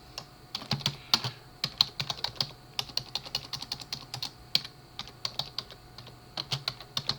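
Someone types a paragraph on a computer keyboard, with a steady stream of close, crisp key clicks in irregular bursts and no talking.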